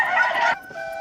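Newly hatched chicks peeping indoors, a bright, continuous high-pitched chirping that briefly dips and resumes, loud and close with no talk.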